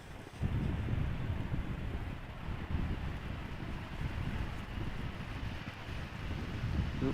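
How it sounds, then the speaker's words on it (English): Wind buffets the microphone outdoors at Amsterdam Schiphol Airport, a steady low rumbling roar with gusty swells and no voices. "the wind almost feels like it is slowing down"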